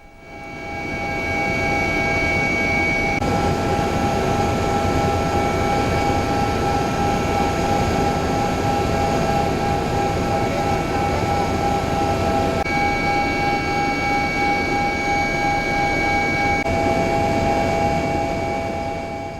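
A helicopter's engine drones loudly and steadily from close by during aerial monitoring of a forest and land fire, a continuous mechanical roar with a faint whine, without any voices.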